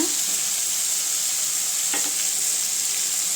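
Eggplant and okra sautéing in a pan for a tamarind curry give a steady, close sizzle that holds evenly throughout, with no voices.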